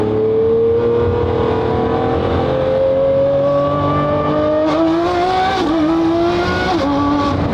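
A Porsche on a race track revs hard as it accelerates, with its engine note climbing and then dropping sharply at several quick gear shifts, loud and continuous.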